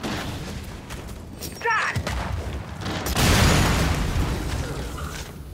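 A frag grenade blast in the Gears 5 Hivebuster horde game, heard as a loud rumbling burst that swells midway and lingers over steady background battle noise, with a voice calling out in the game.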